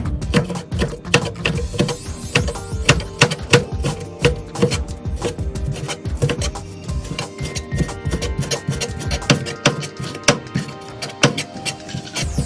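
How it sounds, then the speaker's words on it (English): Knife slicing through raw chicken with a slant cut, Japanese-style prep for microwave chicken: a rapid, dense run of sharp chopping taps on a board, close and steady throughout with no talk. "Make a slant cut first to the other side. And cut it."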